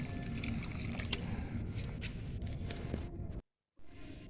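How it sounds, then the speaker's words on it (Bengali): Water is poured onto a freshly replanted plant set on vegetable peels and a little soil, making a steady, close splashing trickle that cuts off briefly near the end before resuming. "জল দিয়ে ভালো করে ভিজিয়ে দিচ্ছি"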